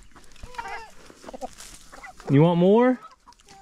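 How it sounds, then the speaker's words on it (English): Chickens cluck close by, with a loud drawn-out squawk standing out partway through, while a person talks briefly over the flock. "these chickens want more too"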